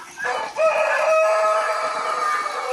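A rooster crows on a small rural smallholding, a loud, close call rising into a long sustained note that fills nearly the whole clip, with no talk over it.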